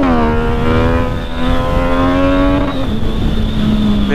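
A Yamaha MT-09 motorcycle fitted with a new Fortinox aftermarket exhaust revs loud and close, its engine note climbing steadily in pitch as the throttle is held open, then dropping briefly before rising again.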